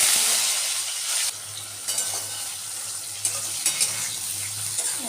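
Eggplant fries in hot oil with a steady, close hiss of sizzling, a few soft utensil knocks and stirring sounds now and then, and no voices.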